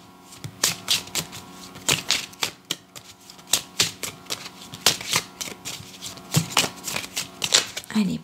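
Tarot cards being shuffled and laid out one after another at close range, giving a quick, irregular series of crisp snaps and riffles with brief pauses between bursts.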